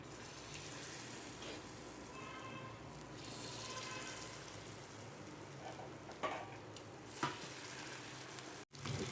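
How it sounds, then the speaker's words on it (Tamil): White kilanga fish frying in hot oil in a pan, a steady close sizzle filling the whole stretch with a few sharper pops and spatters near the end. "ஆயில் சூடாகிடுச்சு. இப்போ இதை வந்து ஃப்ரை பண்ணிக்கலாம்."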